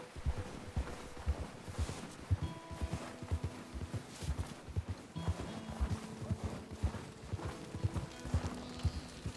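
Horse hooves clip-clop at a steady walking rhythm, fairly close, with faint ambient sound around them, in the video game Red Dead Redemption 2.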